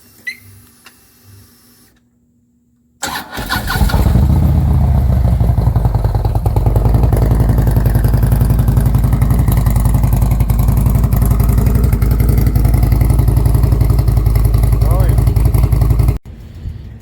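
A motorcycle fitted with a Tab Performance 50 Cal exhaust with zombie baffles and new head pipes starts up after a quiet moment, then idles loud and close with a deep, steady, throbbing rumble before cutting off abruptly.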